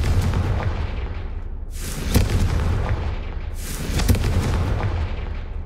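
Confringo explosion spell cast in the video game Hogwarts Legacy, two heavy booming blasts a couple of seconds apart, each with a sharp crack and a rumbling tail over a low background drone.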